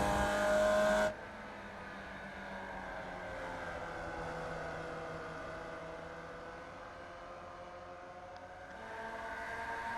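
A Formula Vee race car in iRacing holds a steady high-pitched engine drone near top speed, its pitch sliding gradually down and rising again at the end, loud and continuous with no talk.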